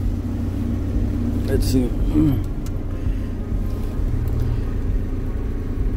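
A Honda car engine idles steadily while it warms up, a low continuous rumble close by, with someone speaking briefly over it.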